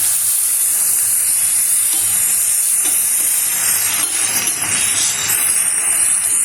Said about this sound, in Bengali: এইভাবে সব পাতুরিগুলো আমি ভেজে জায়গাতে তুলে নেব